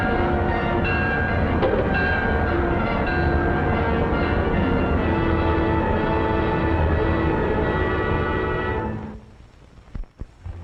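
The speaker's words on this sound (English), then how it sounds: "And now the clipper goes speeding under electrical power." A 1942 New York, New Haven and Hartford Railroad electric passenger train roars past at speed, loud and sustained with a faint tonal whine, then cuts off abruptly into near quiet with a few knocks.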